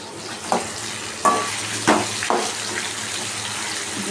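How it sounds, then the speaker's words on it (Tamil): Chicken pieces fry in homemade masala with a steady sizzle, broken by several sharp stirring scrapes and clatters spaced a second or so apart, close up with no talking. "நல்லா பொரிக்கட்டும்"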